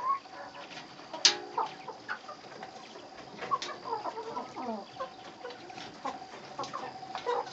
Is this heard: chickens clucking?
yes